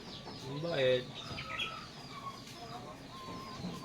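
A native chicken clucks nearby in a short, loud burst, then softer clucks and chirps follow, with a little quiet talk.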